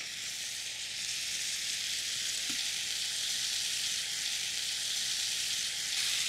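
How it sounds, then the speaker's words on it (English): Butternut squash stir fry with cayenne and cumin sizzling steadily in a pan, a faint, even hiss with one brief clink of stirring partway through. "And now we give it a good stir. This is like a stir fry."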